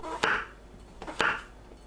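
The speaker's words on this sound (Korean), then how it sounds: "새송이버섯을 반 자릅니다." A knife halves a king oyster mushroom, making two crisp, separate chops on a cutting board about a second apart, close and clear in a quiet kitchen.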